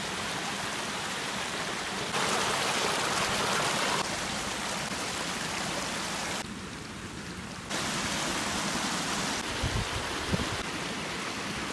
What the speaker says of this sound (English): I'm going to follow this small creek